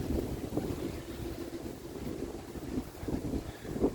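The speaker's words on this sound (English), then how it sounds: "The wind is really kicking up hard, so I'm sure the audio on this video is going to be terrible." Strong wind buffeting a microphone outdoors, low rumbling gusts that rise and fall unevenly for a few seconds, fairly quiet overall and with no voices.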